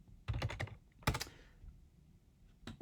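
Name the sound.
typing on a computer keyboard to search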